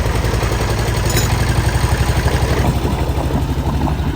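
A small trawler boat's engine runs steadily at close range, a loud, continuous low throbbing chug with a fast even pulse and some rattling clatter, heard alone without talk.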